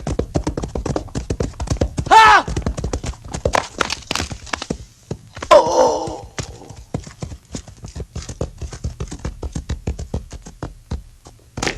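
A ridden horse clip-clops in a steady walking rhythm, its hooves close and clear throughout, with a couple of brief louder vocal bursts breaking in over the hoofbeats.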